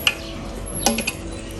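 A few light clinks of a utensil against a cocotte while turning roast chicken, sparse and close, over quiet background hiss.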